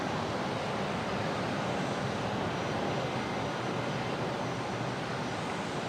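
Boeing 737 airliner taking off at Brisbane Airport, a loud, steady broadband jet roar that fills the whole stretch without letting up, with no voices.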